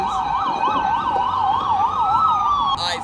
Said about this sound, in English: It's the sound of the police.